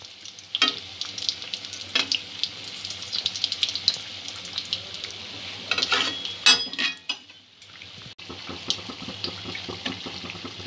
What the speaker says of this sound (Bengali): বন্ধুরা, পিঠেগুলো এইভাবে লালচে করে ভেজে নেব এপিঠ ওপিঠ।